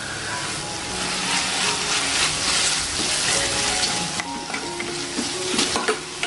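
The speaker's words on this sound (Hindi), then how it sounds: "दो मिनट अदरक लहसुन भी फ्राई हो चुका है" Ginger garlic paste frying in a pan for mutton keema with liver, giving a steady close sizzle with scraping stir strokes throughout, no talking.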